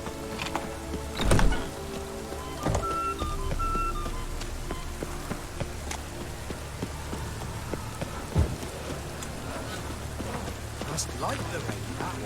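Steady rain falls in The Witcher 3: Wild Hunt, a constant wash of drops over a surface, broken by a few louder knocks and thumps.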